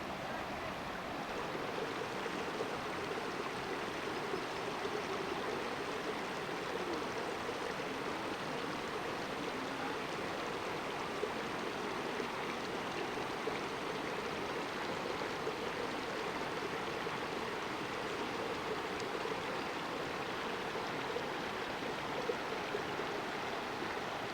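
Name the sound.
gurgling brook at Oak Creek, Red Rock Crossing, Arizona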